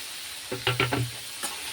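Green chillies, onion and tomato frying in a pan, a short burst of a few quick spatula scrapes and clatters over a low sizzle, close up with no talking.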